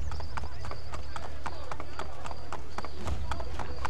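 Horse hoofbeats in Assassin's Creed Brotherhood, a quick, regular clip-clop of galloping hooves at close range, with a person talking over it.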